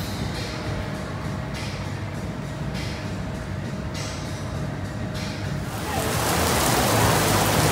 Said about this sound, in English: We're having rain.